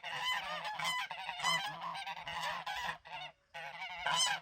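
Several geese honk repeatedly on a small Ontario farm during a heat wave, loud, close and overlapping in busy bursts with a brief pause near the end.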